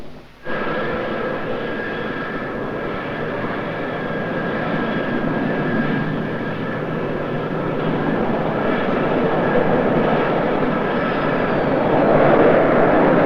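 The British Concorde 002 prototype jet lands at RAF Fairford in Gloucestershire on its first flight in 1969, a loud sustained roar of jet engines that swells slightly and stays steady throughout.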